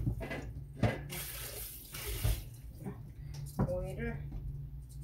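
Tap water runs into a sink while vegetables are washed, a soft steady stream with splashes and clattering handling sounds over it, fairly quiet and close.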